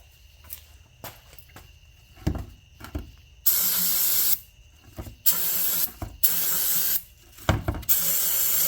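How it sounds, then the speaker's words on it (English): Cleaner sprayed onto a dirty track tensioner part of a Cat 300.9 mini excavator in several loud, close hissing bursts, with quieter clicks and handling noises between them. "I'll just have to use a lot of cleaner to clean it off."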